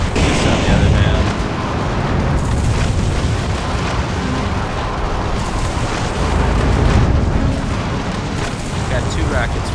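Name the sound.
rockets fired in the video game Metal Wolf Chaos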